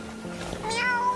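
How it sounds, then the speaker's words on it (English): A cat meows once, a short rising-then-falling call with clear tonal harmonics, fairly close and alone over a faint background. "I could hear Archie. Meow"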